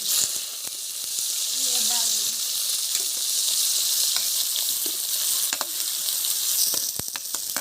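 Chunks of jackfruit fry in hot oil in a kadhai for a village-style curry. A loud, dense sizzle crackles steadily throughout with a few sharp spatters and faint stirring knocks.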